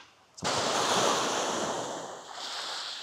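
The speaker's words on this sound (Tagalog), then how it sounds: "Sarap pakinggan ng wave. Alon. Tumatama dito sa beachfront." Ocean waves washing onto a beachfront at Canyon Cove, Nasugbu, Batangas, starting abruptly as a loud sustained roar of surf with wind noise on the microphone, close and steady throughout.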